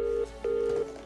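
A telephone call is placed in a tense drama scene, with two steady electronic ringback tones separated by a short gap, clear and fairly close over faint background hum.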